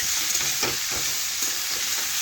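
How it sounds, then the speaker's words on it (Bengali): Boiled papaya frying with spices in a pan, with a steady close hiss of sizzling oil and a few soft stirring scrapes, continuous and fairly quiet with no talking. "এখন ভালোভাবে নাড়াচাড়া করে একটু আবারও কষে নিচ্ছি।"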